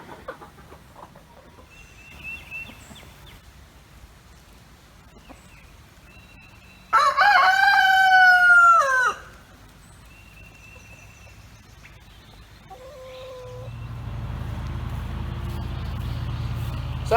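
Backyard chickens and a rooster on a rainy day: soft scattered clucking, one loud rooster crow in the middle, and a rising rushing background noise near the end.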